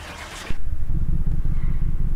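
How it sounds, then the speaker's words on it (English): An engine in the video game Car Mechanic Simulator 2018 cranks and catches after a hesitant start, then settles into a steady low rumbling idle that stays close and fairly loud. "Seems like it had some trouble starting there. You can listen to the engine."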